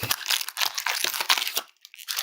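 A 2025 POTP Wild West Edition trading card pack being torn open, a close, steady run of crinkling foil wrapper and tearing with a brief pause near the end.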